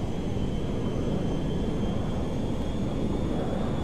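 A jet aircraft flies in the video game GTA V, a constant loud engine roar with a thin steady whine above it, unchanging for the few seconds heard and with no one speaking.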